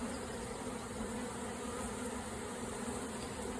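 A dense, steady buzzing of a honeybee swarm with three queens hums close by without pause, droning evenly throughout as the bees gather.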